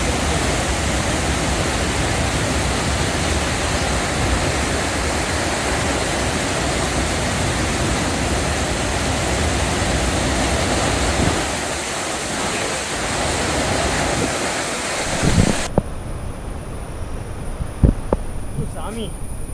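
A steady, loud roar of falling water at Athirappilly Falls fills the scene, dropping off abruptly near the end to quieter outdoor sound with faint knocks.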